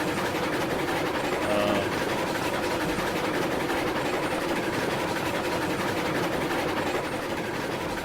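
A small steam locomotive in the railroad game RailRoads Online runs steadily, a continuous rumbling chuff and rattle of the engine and cars, loud and even throughout with no voices.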